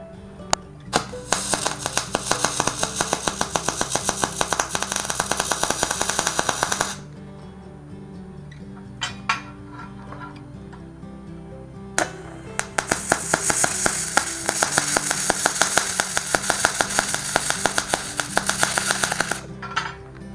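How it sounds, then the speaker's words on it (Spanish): MIG welding on a 3/16 steel flat bar using pure argon shielding gas, a loud continuous crackling buzz in two long bursts with a quiet gap between, heard up close with no talking. "que sí se puede soldar con la MIG con argón puro"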